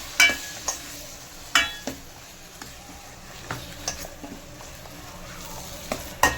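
Onions and spices sauté in a pan for goat trotter paya, a steady sizzle broken by clinks and scrapes of a stirring spoon against the metal, close and fairly loud.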